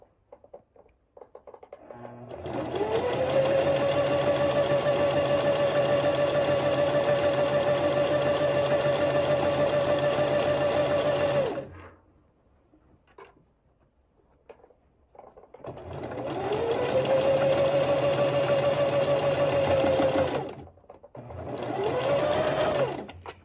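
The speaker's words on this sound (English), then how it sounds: "you're just gonna understitch the entire neckline all the way around" An electric sewing machine understitching around a garment neckline runs in long steady whirring bursts, near and loud, pausing twice in between before starting again, with no voices.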